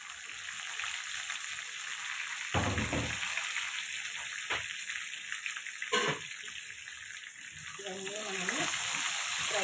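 Garlic and curry leaves frying in hot oil for a gongura chutney with raw tomato, a steady close sizzle with a few brief clattering stirs, no talking.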